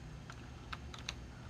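Keys on a computer keyboard are tapped out as a terminal command is entered on Linux Mint, with a few scattered clicks at an irregular pace, fairly faint over a steady low hum.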